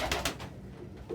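A pet pigeon gives a few short, soft coos close by, with quiet pauses between the calls and no talking.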